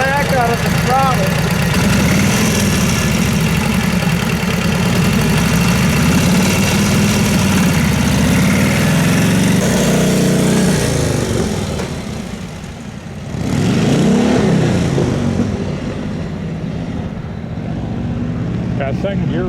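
A 1949 Harley-Davidson 45 motorcycle engine runs and revs nearby, a rough, loud rumble that rises and falls, dipping briefly before swelling again, with a person talking over it.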